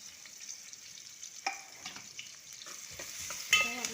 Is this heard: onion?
yes